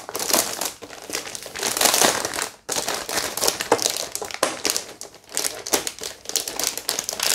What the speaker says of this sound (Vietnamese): Ok, để mình mở luôn cái bàn phím ra luôn.